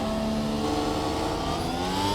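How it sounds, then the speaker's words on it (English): A Mercedes W12 Formula 1 car in iRacing revs hard toward redline in first gear, a loud, steady engine whine with rising harmonics that fills the whole moment without any talk. "we're just going to basically bean it to red line in first gear"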